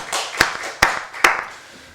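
Three sharp, evenly spaced claps ring out close by during a Korean church's Wednesday worship service, each followed by a brief fading trail in an otherwise quiet room.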